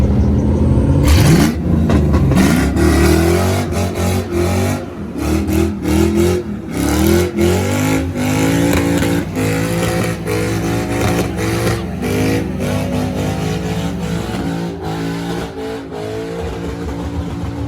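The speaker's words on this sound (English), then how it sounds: "Is he gonna do a burnout?" A car at a street car meet doing a burnout, its engine revving hard and holding a loud, rough roar close by for the whole stretch, with brief surges along the way.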